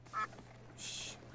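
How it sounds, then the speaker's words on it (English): Cartoon ducks let out a few short, nasal quacks in quick succession, fairly close and clear, over a faint background hum. "The ducks."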